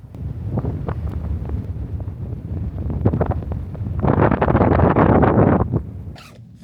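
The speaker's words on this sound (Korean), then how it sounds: "바람 많이 부네" Strong wind gusting outdoors in a village, roaring buffets across the microphone that swell louder toward the end, with no talking.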